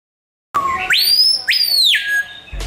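Screaming piha in an Amazon rainforest: a loud, eerie rising whistle that slides up and holds, then a second sharp upswept whistle, ringing clearly against a quiet background with no voices.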